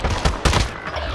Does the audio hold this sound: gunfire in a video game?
yes